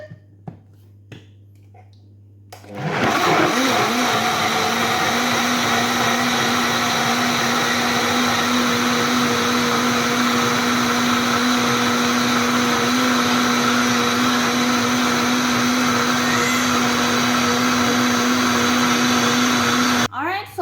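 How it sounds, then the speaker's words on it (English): A blender runs continuously for about seventeen seconds, blending ingredients for homemade ketchup in a kitchen, with a loud, steady motor whir and churning that start abruptly after a quiet moment and cut off at the end. "And I'm going to blend."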